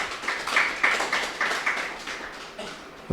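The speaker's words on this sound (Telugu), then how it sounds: "పత్రి సార్కి ఒకసారి గట్టిగా క్లాప్స్ కొడదాం మాస్టర్స్" An audience at a meditation gathering claps for their teacher, a run of sharp, separate hand claps at a fairly steady rhythm, moderately loud and without voices.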